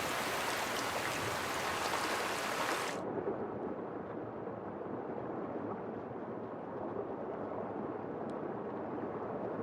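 A Drakensberg mountain stream flows in a steady broadband rush of water that softens after a few seconds into a gentler, continuous gurgle, with no voices.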